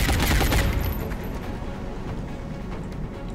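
Gunfire in the video game XCOM Long War, a rapid burst of shots up front that fades into a rattling tail and lingering echo.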